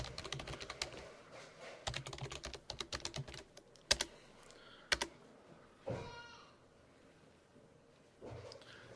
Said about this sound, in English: So I'm going to type in exactly as I see it.